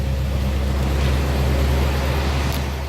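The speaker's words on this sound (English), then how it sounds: "Slip out here so you can hear the engine run." A 1979 Lincoln Continental idling with a smooth, quiet exhaust, a steady low rumble heard close and unchanging over a few seconds with no voices.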